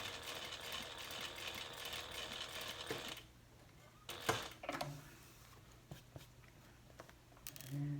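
A sewing machine stitches a 1/8-inch seam on a handbag slip pocket, whirring steadily for about three seconds, then stopping, followed by quieter handling clicks and short bursts of stitching.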